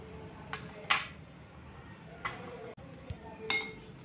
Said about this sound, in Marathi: हे मडलर घ्यायचं आहे आणि असं तुम्हाला छानसं क्रश करायचं आहे